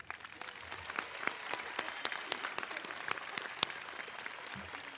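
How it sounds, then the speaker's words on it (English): Scattered applause from an audience at a high school graduation ceremony, honoring the school band, with steady clapping at moderate distance. "Please join me in a round of applause for the Vanguard Band under the direction of Ms."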